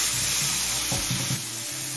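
Spices and prawns sautéing in a pan for a cucumber and prawn curry, a steady close sizzle broken by a few soft scraping stirs.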